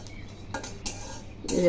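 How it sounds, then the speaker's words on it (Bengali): Sesame seeds dry-roast in a dry wok, with a few short scraping stirs and a faint light crackle, close and quiet, in a brief stretch with no voice. "এই তিলগুলো আমি শুকনো কড়াইয়ে ভেজে নেব একটু লাল লাল করে ভেজে নেব"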